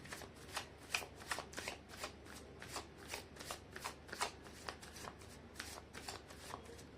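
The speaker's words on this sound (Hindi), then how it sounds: "मैं कर लेती हूँ कार्ड की शफलिंग।" Tarot cards being shuffled by hand, a steady run of crisp riffling flutters repeating close up for several seconds with no voices.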